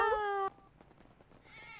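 A person imitates a cat with a drawn-out, strongly pitched meow in a GTA 5 roleplay session, heard up close and alone before dropping to a low background bed.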